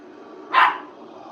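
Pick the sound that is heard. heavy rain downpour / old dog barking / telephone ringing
old dog barking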